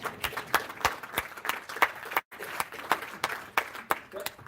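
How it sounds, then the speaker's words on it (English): A town hall audience in New London, New Hampshire claps and cheers in a sustained burst of applause, briefly cutting out midway before resuming at full strength. "Give yourself a round of applause in advance"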